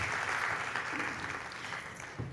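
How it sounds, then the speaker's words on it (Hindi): Applause from a house-full audience at author Sahar Zaman's book talk, a steady wash of many hands clapping at moderate distance, fairly even throughout with a slight rise near the end. "एक बार जोरदार तालियां सहर जमा के लिए"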